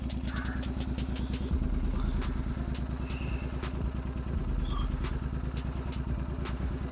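A motorcycle fitted with a Stage 2 ECU tune idles in first gear with a steady, close, continuous low throb and faint clattering ticks on top.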